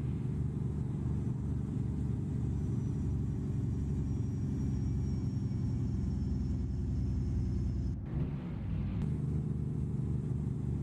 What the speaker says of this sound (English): Jake brake. It's not really too loud, but it's not exactly that subtle.